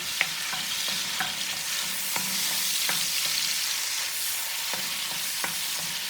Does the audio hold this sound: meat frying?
yes